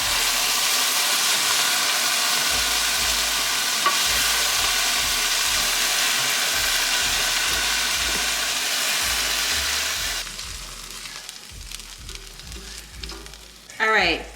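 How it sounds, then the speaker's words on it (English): Chicken pieces brown in a hot pan for curry, a loud continuous sizzle and crackle with stirring thumps, then the frying drops quieter toward the end with a brief louder burst. "I put my second batch of chicken in the pan, so that's browning"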